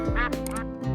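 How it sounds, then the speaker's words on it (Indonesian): Broiler ducks about 29 days old, a flock prone to feather-pecking, give a few loud nasal honking quacks close by, overlapping calls against a steady low background hum. "Ini adalah bebek pedaging yang umurnya kurang lebih 29 hari teman-teman."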